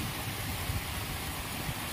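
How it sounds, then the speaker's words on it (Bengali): Heavy rain pours steadily over a village in a dense, even wash of hiss and patter, close and unbroken throughout. "দেখো কতটা জোরে বৃষ্টি হচ্ছে"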